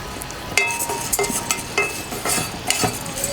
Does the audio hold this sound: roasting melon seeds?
yes